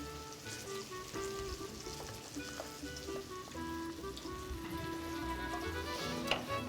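A lamb shank fries in hot oil, giving a soft, continuous crackling sizzle with faint pops and light clinks in the background, low in level with no talking.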